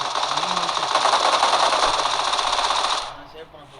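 Rapid automatic gunfire in the BGMI battle royale game, a dense loud burst of shots lasting about three seconds before cutting off.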